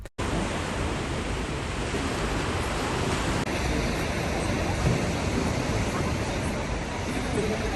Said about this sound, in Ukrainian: Ледве вдалося знайти місце, де немає людей, щоб просто зняти шум моря.